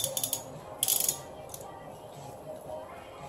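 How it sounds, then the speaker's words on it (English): An engine cylinder head being unbolted: a brief metallic rattle and clicking of a ratchet with clinks of loose bolts, in short bursts early on, then a quieter background hum. "Let's take out the bolts."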